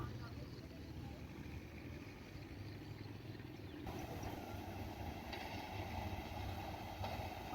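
The Rajshahi-bound 783 Up Tungipara Express rolls onto the old Baura railway bridge, a steady low rumble of the train on rails that grows louder and brighter partway through, with a continuous rolling drone throughout.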